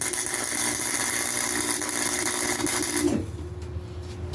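A cheap welder tack-welds thin metal for an e-bike rack built from a bed platform, a steady buzzing crackle that holds for about three seconds and then drops away to a quieter hum.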